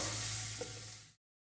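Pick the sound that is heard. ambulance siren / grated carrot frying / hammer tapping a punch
grated carrot frying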